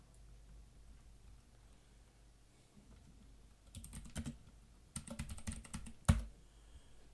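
Typing on a computer keyboard while using Tandy DeskMate 3.0: short bursts of close, crisp key clicks start after a quiet stretch, build into quick runs and end in a sharper louder strike, with no talking.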